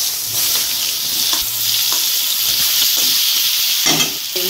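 Chopped onion dropped into hot oil already holding spices, sizzling loudly up close with bursts of spatter and stirring scrapes.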